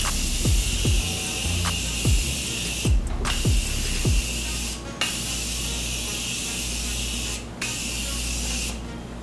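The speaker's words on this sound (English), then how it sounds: "I'm gonna give my face a very good spray to get this powder settled in." Several short bursts from a dewy setting-mist bottle sprayed onto a powdered face during makeup, crisp broadband hisses spaced a second or two apart, close and fairly loud over a steady background.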